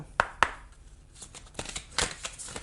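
Tarot cards handled and drawn from a deck, with two crisp snapping flicks followed by softer shuffling and sliding card noises up close.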